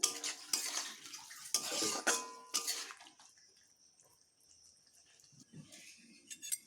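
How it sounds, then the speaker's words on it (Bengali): A metal spoon stirs turmeric powder into water and vegetables in a pan, several close clinking scrapes in bursts, then quieter swishing with a faint high whine. "এই হলুদ গুঁড়োকে আমি একটু ভালোভাবে মিশিয়ে নিই"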